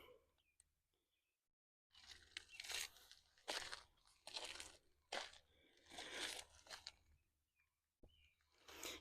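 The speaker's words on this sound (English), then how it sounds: "Sorry about the crunchy noise." Footsteps crunching on gravel at a pet memorial site, a quiet pause followed by a series of close, irregular crunchy steps with gritty bursts, no talking.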